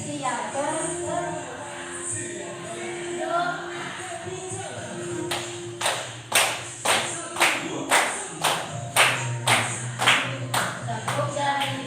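Children play a tepuk counting clap game, likely in a classroom. Chanting voices come first, then a run of sharp, evenly spaced group claps that grows in number and keeps a steady beat.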